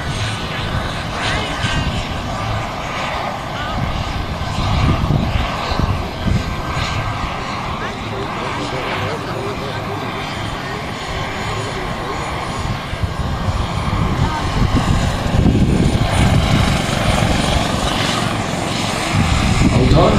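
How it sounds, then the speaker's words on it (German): An XXL scale RC JetRanger helicopter powered by a Jakadofsky turbine, its high turbine whine and thumping rotor running continuously and loudly, with someone talking over it. "man kann den Ton fast nicht von einem Original-Helikopter unterscheiden"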